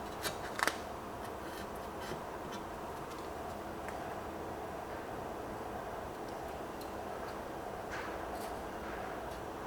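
Scissors cut out a piece along marked cut lines during a mini restoration scuttle job, with a few crisp snips near the start, then a quiet, steady cutting rustle under a constant background hiss, with no talking.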